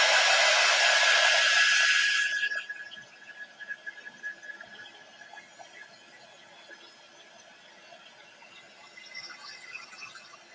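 A hair dryer drying a transfer on a tiered tray runs loud and close with a high whine for about two seconds, then switches off, leaving faint handling noises and quiet room sound.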